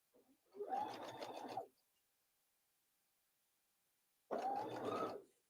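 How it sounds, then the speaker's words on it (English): Sewing machine stitching a memory bear, two short close bursts of fast rhythmic mechanical whirring about a second long each, separated by a few seconds of near silence. "so let's go ahead and start sewing"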